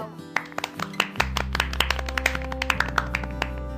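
Cartoon children clap for a winner in quick, sharp claps spread unevenly over a sustained musical backdrop, moderately loud and close.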